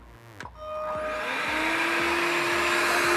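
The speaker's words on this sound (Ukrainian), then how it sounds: "включаємо перший екорежим" An Einhell TE-HV 18/06 Li cordless handheld vacuum cleaner switches on in eco mode after a click, spinning up quickly and then holding a steady, close whine with a constant motor tone.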